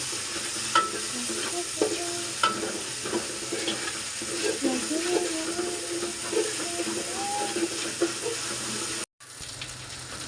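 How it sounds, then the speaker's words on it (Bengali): Garlic paste frying in a pan, for a dish of shing fish with bottle gourd, sizzles steadily with scraping stirs and clinks, continuous and close, with a short gap near the end. "রসুনটাও সুন্দর করে একটু ভাজা দিই"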